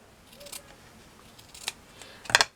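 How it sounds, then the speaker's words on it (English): Scissors snip through fabric for a pair of miniature slippers: one soft cut, a sharper snip, then a quick burst of close, crisp cuts at the end, with no talking. "I'm going to trim that section"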